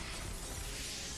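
Dense, bright shattering burst from the video game Octopath Traveler 0, a sustained crash-like break effect filling the short moment at steady loudness with no voices.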